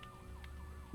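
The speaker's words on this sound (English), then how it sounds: "That's the ambulance that's gonna be waiting for me outside" An ambulance siren sounds steadily from outside, its wailing tone rising and falling at moderate volume, with no voices.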